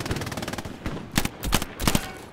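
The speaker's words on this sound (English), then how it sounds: "heavy gunfire here" Rapid bursts of automatic gunfire rattle continuously in a 100-player Hell Let Loose match at Sainte-Mère-Église, with a few louder, heavier blasts punching through the fast rhythm.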